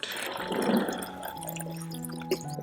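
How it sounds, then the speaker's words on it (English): Water trickles and drips through a newly installed drip irrigation line, a soft, steady liquid patter with a few brighter drips near the end, close by and fairly quiet. "we have added the water and the water is flowing in the drip line"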